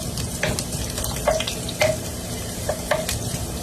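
Ginger sautéing in a pan for ginataan kalabasa with sitaw: a steady oil sizzle with several sharp stirring scrapes and clinks of a utensil, close and fairly loud, with no talking.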